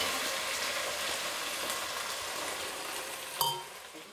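Lake Victoria sardines, omena, fry in hot oil with a steady close sizzle and crackle, a single sharp clink near the end, with no talking.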